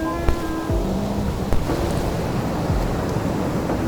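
Ocean waves wash and crash onto a Perth beach during spring shore fishing, a steady rushing surf with wind buffeting the microphone and a few low thumps, no talking.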